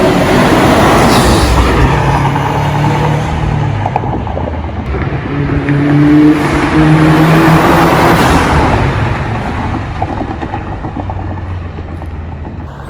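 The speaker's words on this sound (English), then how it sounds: "the car obviously sounds way better. There's way more turbo noises" A car with a Cobb Stage 1 tune drives past with a steady engine roar and turbo whooshing and spool noises, loud and continuous for several seconds with no talking.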